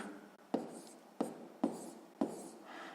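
A pen writes a fraction answer for a sixth-grade math exercise, heard as four short, scratchy strokes spaced about half a second apart against a quiet room.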